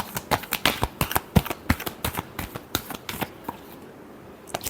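A deck of tarot cards is shuffled in a quick run of crisp, close slaps and clicks, then stops.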